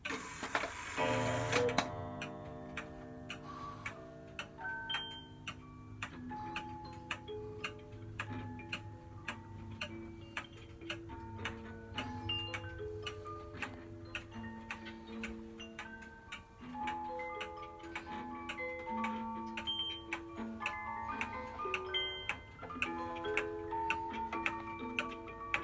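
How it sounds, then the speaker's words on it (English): Large antique George Kuel Clock Co. one-day musical cuckoo clock with a warped dial, heard as a steady tick under a continuous melodic chime-like tune that plays throughout, close and moderately loud. "It's a 1 day cuckoo clock."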